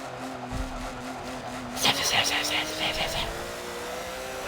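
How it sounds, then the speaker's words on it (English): Race cars at Daytona, a loud steady engine drone with a tonal whine and a brief rising roar as one passes close, while people talk nearby. "I can't hear him with all the car noise"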